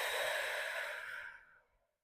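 One slow, airy exhalation during a guided yoga breathing exercise, close and soft, fading out after about a second and a half with no talk over it.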